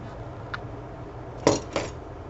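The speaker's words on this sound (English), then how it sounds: "We're going to take this and stir that in." Spoon clinking against a Tupperware Stack Cooker pot while cheddar and pepper jack cheese is stirred into hot broccoli potato soup, a faint tap followed by two louder scraping clinks, close and quiet, no talking.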